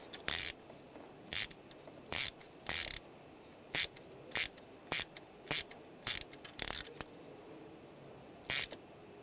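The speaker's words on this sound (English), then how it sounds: "I'm going to use a worm style hose clamp and slide this over just like that and tighten it down." Worm-style hose clamp being tightened on a hose of a 1999-2005 Volkswagen Jetta 1.9 TDI, about a dozen crisp, separated ratcheting clicks spaced irregularly in a quiet setting.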